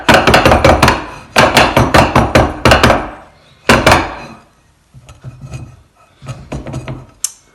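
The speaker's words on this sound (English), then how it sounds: "I'll give them a little crush with the saucepan as well" A saucepan pounds mango seeds on a board in a run of loud, rhythmic thuds in quick clusters, then a pause and a softer, sparser batch of knocks near the end.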